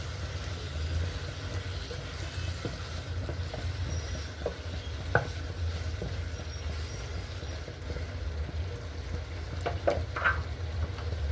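Chicken masala being stirred in a pan, giving steady low scraping and bubbling with a faint continuous sizzle and a few soft utensil knocks against the pan.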